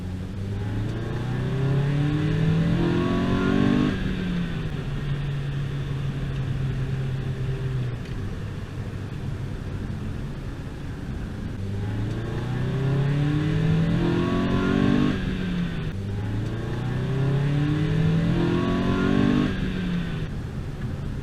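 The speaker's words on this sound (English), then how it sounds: "I will do a nice little second gear, and like I said, I'll shut up and boost the audio so you can hear the butterfly valves actuate" A 2004 Nissan Spec V with a JDM engine swap pulls hard through second gear, its engine note climbing in repeated surges with clearly audible butterfly valves actuating, loud and close with no talking.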